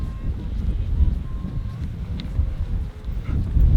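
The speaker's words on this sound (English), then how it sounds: "It's a bit blustery, isn't it?" Gusty outdoor wind buffets the microphone in steady low rumbling bursts throughout, loud and close, with no clear talk over it.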